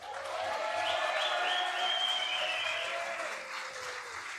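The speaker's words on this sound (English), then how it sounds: "So give them a quick round of applause, please." A crowd claps steadily at the Wacken Metal Battle 2024 winners announcement, a dense wash of applause with a few scattered cheers and whistles, slowly fading toward the end.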